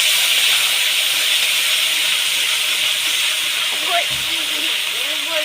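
Onion paste sizzles in hot oil with whole spices for doi katla fish, a loud, steady hiss filling the whole stretch with a brief voice murmuring underneath.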